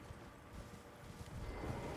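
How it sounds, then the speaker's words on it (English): Horse hooves clip-clop steadily in Elden Ring Shadow of the Erdtree, a soft, continuous run of muffled hoofbeats under a wash of ambient game noise. "even if the enemy is using a horse"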